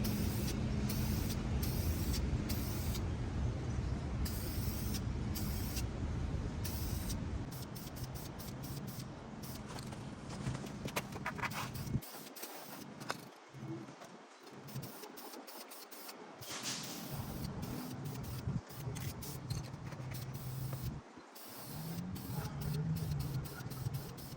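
Gloss paint sprayed onto a car's 6-inch exhaust tips, a steady continuous hiss of aerosol spray running loud and close with brief pauses and bursts between passes.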